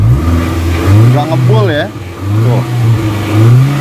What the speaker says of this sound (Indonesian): Ini lihat di knalpot bawahnya deh. Ayo, coba digas.